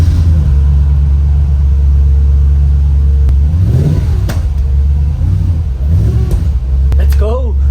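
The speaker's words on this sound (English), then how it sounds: "Let's hear this V8 fire up." The V8 engine of a modded Audi S4 runs on a cold morning, a loud low rumble throughout with a couple of short throttle blips and someone talking over it.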